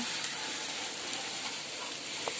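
Food frying in a pan, a dense close sizzle with hissing steam as it is stirred, steady and loud throughout the brief moment, a faint scrape near the end, no talking.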